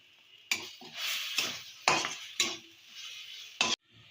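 Spice mixture being stirred and sautéed in a pan, several distinct scraping strokes of a spatula with short sizzles between them, close and fairly loud.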